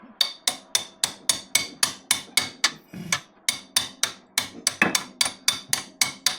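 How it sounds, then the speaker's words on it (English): Rapid, steady series of hammer taps on metal during a clutch change on a Mazda RX-3 with a 13B bridge-port turbo rotary, about four per second, close and crisp, with a brief pause midway and no speech. "Give this a tap with the hammer"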